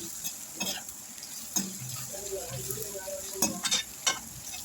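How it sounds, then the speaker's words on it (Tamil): Curry leaves and onions sautéed in a pan for a drumstick curry, with a continuous soft sizzle and several distinct stirring scrapes and taps of the spoon, close and fairly quiet. "இப்போ கருவேப்பிலை சேர்த்துக்கலாம் சேர்த்து நல்லா வதக்கி விட்டுக்கோங்க"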